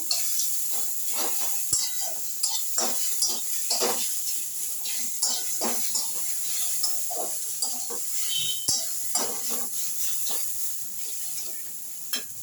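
Tomato and onion being stirred together in a cooking pan: a steady soft sizzle runs throughout, broken by repeated scraping clinks of a spoon against the pan at an uneven rhythm, close and moderately loud.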